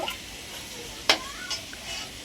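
Potatoes fry in oil for chicken biryani, a soft, steady sizzle heard close by with one sharp utensil clink partway through.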